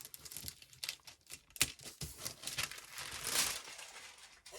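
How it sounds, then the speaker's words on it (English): Wax paper crumpled by hand while arranging a vertical Happy Planner spread, giving a steady run of dry crinkles and crackles with a few sharper snaps, close and fairly quiet, no voices. "Throw away the wax paper."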